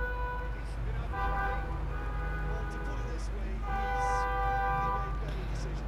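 A horn blares twice in an eFootball 2024 match, two sustained tonal blasts a few seconds apart over crowd noise, with someone talking over it.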